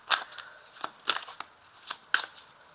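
Tarot cards are shuffled and cut in a quiet room: a handful of crisp, separate riffling snaps and slaps, close and fairly soft, with no voice over them.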